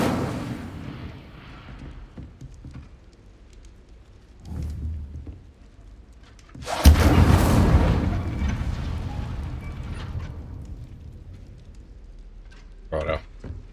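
An Incendio fire spell in Hogwarts Legacy erupts as a sudden loud whooshing blast of flame midway, roaring for about a second before fading. Quieter rumbles and a short burst come before and after it, with talk nearby.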